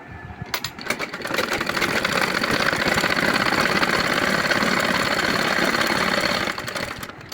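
Sewing machine stitching a hijab runs in a steady, continuous whir for most of the stretch, starting after a brief pause and stopping near the end, close and fairly loud with no talking.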